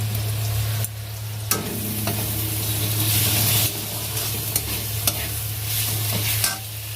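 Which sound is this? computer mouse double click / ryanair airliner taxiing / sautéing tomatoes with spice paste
sautéing tomatoes with spice paste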